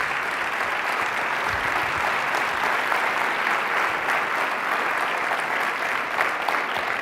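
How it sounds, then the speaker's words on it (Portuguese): Dense, sustained applause from a hall full of young socialist party members at a Lisbon 2021 gathering, a continuous even wash of clapping with no break. "E agora peço uma salva de palmas"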